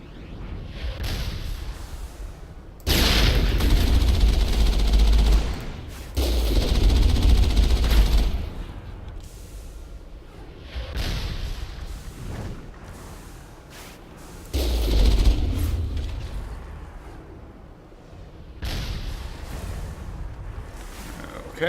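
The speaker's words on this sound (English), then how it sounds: "suppressing fire" Heavy suppressing gunfire in the video game Mass Effect, loud sustained bursts of a few seconds each that repeat over the stretch, with quieter combat noise in between.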